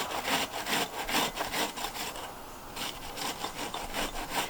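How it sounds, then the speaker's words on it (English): An onion rubbed up and down the large side of a box grater, producing a rhythmic rasping scrape in quick repeated strokes, close and fairly quiet, with a brief pause midway. "just take your onion and start grating it"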